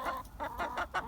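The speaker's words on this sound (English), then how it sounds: "Happy chickens." Chickens clucking in a winter farmyard, a series of short bursts repeating in an uneven rhythm, close and moderately loud with no talk over them.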